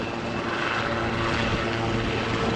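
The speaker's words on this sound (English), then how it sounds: "showing that wonderful dynamic movement that the helicopter can give us," A New Zealand Navy helicopter performs at the Classic Fighters Omaka 2023 air display, its rotor and engine droning loudly and continuously at moderate distance as it flies left and right.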